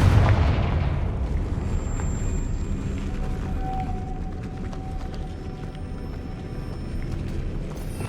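A Confringo fire spell blast in Hogwarts Legacy, a loud booming explosion that stays as a dense, rumbling roar for several seconds before gradually tapering.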